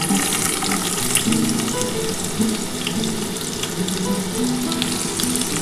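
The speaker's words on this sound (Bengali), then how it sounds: "তোমরা দেখতে পাচ্ছ তেল গরম হয়ে গেছে। এবার এর মধ্যে আমি পেঁয়াজ দিয়ে দিচ্ছি।" Chopped onion frying in hot oil, a steady loud sizzle and crackle running throughout with no voices, with a watery hiss like a running tap mixed in.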